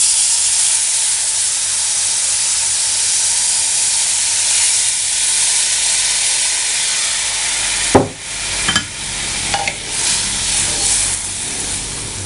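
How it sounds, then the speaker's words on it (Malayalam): Tamarind water poured over ginger browned in hot oil for puli inchi, an Onam sadhya curry, giving a loud continuous hissing sizzle with a few sharp spits and bursts toward the end. "നമുക്ക് ഇതിലോട്ട് പുളി വിരിഞ്ഞ വെള്ളം ഒഴിക്കുകയാണ്."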